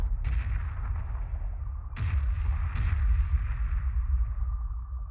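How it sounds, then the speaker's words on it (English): Heavy cruisers open fire in the space strategy game Homeworld Remastered: three heavy booming shots land about a second apart over a low, continuous rumble. "Heavy cruisers seem to have a real tendency to want to shoot stuff they shouldn't be shooting at."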